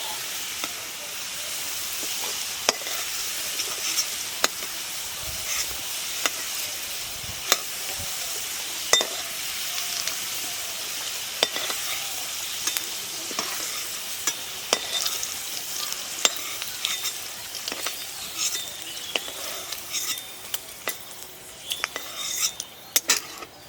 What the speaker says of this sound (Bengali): আলুগুলো লাল করে ভেজে নিয়েছি এবার তুলে নিচ্ছি